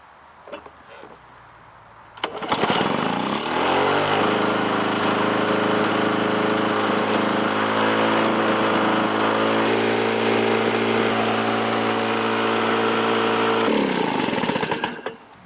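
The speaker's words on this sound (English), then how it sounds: "after regapping the ignition module on this lawnmower, it runs good" A small gasoline lawnmower engine, running again after its ignition module was regapped, starts after about two seconds, roars at a steady loud drone for over ten seconds, then cuts off abruptly.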